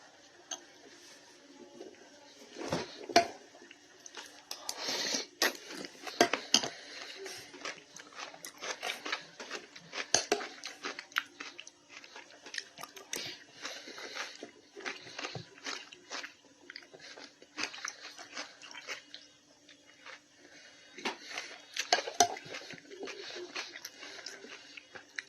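Someone stirs and eats a bowl of okroshka, with soft spoon clicks and chewing and crunching bursts up close. Pigeons coo steadily in the background throughout.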